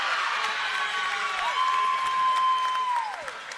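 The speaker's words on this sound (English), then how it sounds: "You can hear everyone cheering" Crowd cheering and applause at a women's basketball semifinal between the Newcastle Hunters and the Manly Warringah Sea Eagles, a steady roar across the whole stretch with a sustained whistle-like tone gliding above it.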